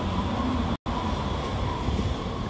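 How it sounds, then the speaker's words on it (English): A BART train passes near the Embarcadero in San Francisco with a loud, steady rumbling roar and rail noise, close and continuous, broken by one brief dropout, with no talk. "So this is the top of a BART train."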